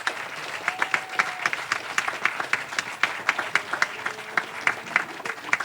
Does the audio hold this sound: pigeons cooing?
no